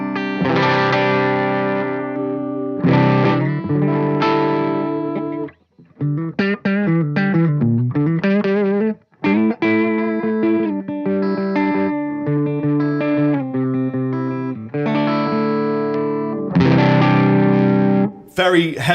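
An Epiphone SG electric guitar through a clean tube amp with reverb off plays chords and single-note runs with sustained, ringing notes and short pauses, loud and close.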